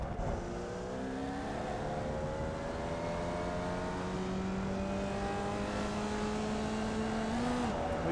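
Formula Vee race car engine in iRacing at Laguna Seca, droning steadily as it bogs down climbing a hill with little power, a low, strained hum with faint harmonics that holds throughout.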